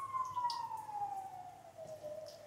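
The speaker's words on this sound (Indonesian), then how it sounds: "Ada apa itu, ada ambulan lewat." An emergency siren passes on a village road, a steady wailing tone slowly falling in pitch as it goes by, moderately near, with faint background sounds.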